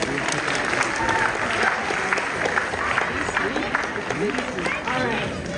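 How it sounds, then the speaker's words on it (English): An audience at an evening cultural celebration applauds young performers, dense continuous clapping filling the room at a steady loud level, with a murmur of voices mixed in. "Let's give these young performers another round of applause."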